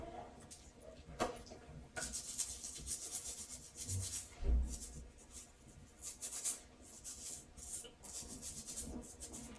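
Fingernails being rubbed during a natural nail care routine, producing soft, close, irregular scratchy rubbing strokes that come in bursts with brief pauses, quiet overall.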